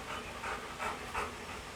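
A dog pants close by in four quick, rhythmic breathy bursts, fairly soft, with no talk over it.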